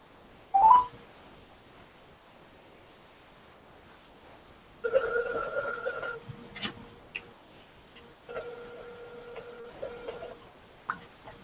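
A phone dials a call, with a few separate bursts of steady tones and faint clicks, fairly quiet, with no talking.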